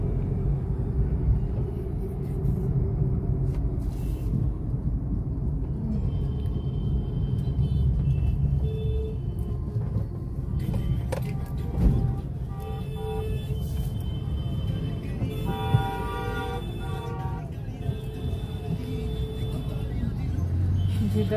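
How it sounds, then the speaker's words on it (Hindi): Road traffic on a busy street lined with fruit stalls: a continuous low rumble of passing cars and buses with occasional horn toots, with a person talking over it throughout. "जिधर देखो ट्रैफिक ट्रैफिक"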